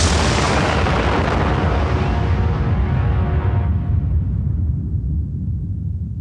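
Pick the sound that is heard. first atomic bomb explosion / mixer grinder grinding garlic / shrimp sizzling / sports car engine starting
first atomic bomb explosion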